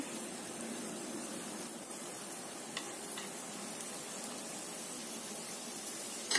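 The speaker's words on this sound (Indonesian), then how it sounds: "Kemudian kita goreng." Steady hissing sizzle of tapioca flour batter deep frying in hot oil, with a few faint ticks and pops over the constant crackle.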